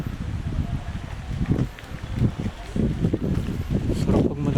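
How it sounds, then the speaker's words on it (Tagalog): Wind gusts through a tree-lined rural area around an elementary school, a steady rushing buffet against the microphone that swells and dips in waves, close and fairly loud, with no other clear sounds on top. "Mahangin talaga."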